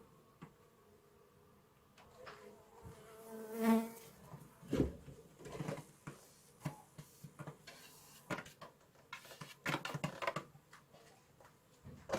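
Bees in a weak colony hive buzz intermittently near at hand, a thin insect drone mixed with frequent clicks, knocks and rustles of hive parts being handled, quiet overall with no speech.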